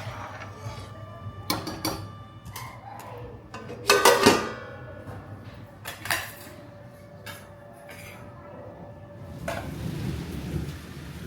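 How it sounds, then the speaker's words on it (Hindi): Heavy rain and rolling thunder in a darkened home during a storm, with sharp cracks of thunder and a steady downpour mixed with clinks of pots and dishes from cooking nearby. "बारिश तो भयंकर वाली आई है।"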